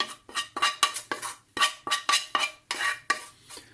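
A utensil spreads a mushroom, leek and onion mixture across a pan, giving a steady run of close, bright clinks and scrapes against the metal, roughly two or three per second, with no talk.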